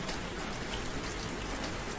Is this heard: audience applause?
no